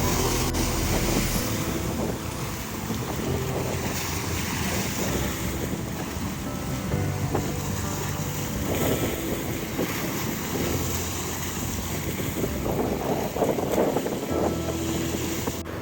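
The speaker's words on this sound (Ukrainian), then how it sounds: "Дуже люблю дивитися, як хвилі б'ються об каміння, розбиваються в піну." Black Sea waves crash and wash continuously against rocks on the shore at Odesa, breaking into foam, with gusty wind roaring across the microphone throughout.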